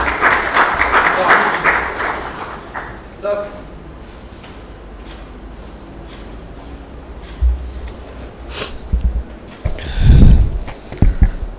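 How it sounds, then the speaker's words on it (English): Applause from an audience at a healthcare panel event, a burst of clapping at the start that fades into shuffling, footsteps and bumps as people stand up. "a round of applause to them"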